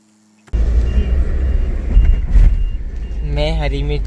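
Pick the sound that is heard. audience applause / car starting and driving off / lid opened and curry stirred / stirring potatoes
car starting and driving off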